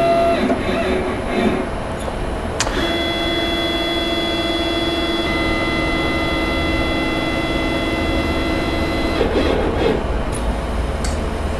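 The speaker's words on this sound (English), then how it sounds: "You can hear my machine going to its home position." A CNC machine on an Acorn controller homes its axes, its stepper motors whining with steady tones for several seconds before stopping, with clicks at start and end.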